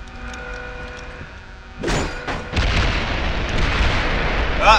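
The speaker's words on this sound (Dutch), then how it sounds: "Beetje veel explosies" Explosions in the James Bond Blood Stone video game erupt as a sudden loud blast near the two-second mark, followed by a sustained heavy rumble of further detonations that stays dense and loud to the end.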